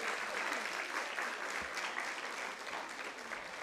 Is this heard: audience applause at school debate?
yes